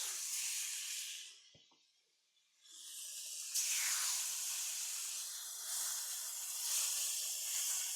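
Tomahawk steaks land in a pan with a little olive oil and hiss loudly, the sizzle dropping away briefly before surging back as a strong, steady spitting sound.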